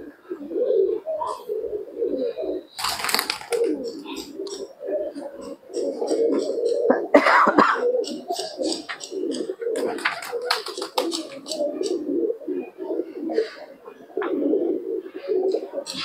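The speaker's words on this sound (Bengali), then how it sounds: "দেখুন বন্ধুরা প্রায় 100-এর উপরে কবুতর আছে।" A large flock of more than a hundred domestic pigeons coos steadily and overlapping throughout, a dense, continuous murmur of low throaty calls with occasional wing flutters and brief rustles, close and fairly loud.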